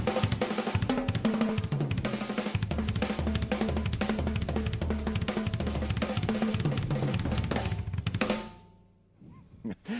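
Fast drum fills moving between hands and feet in groupings of twos, fours and sixes, a dense, continuous roll of kick, snare and tom hits played close and loud for about eight seconds before cutting to near silence with a few faint sounds.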